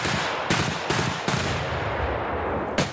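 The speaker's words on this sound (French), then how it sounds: "L'entraînement se fait à balles réelles." Live rounds fired during Russian soldiers' training exercise: several loud, sharp gunshots in quick, uneven succession, with a final shot after a short pause, close and dominating.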